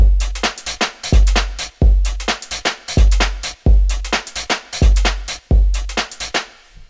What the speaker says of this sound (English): The kick, snare, and hats all sound like this.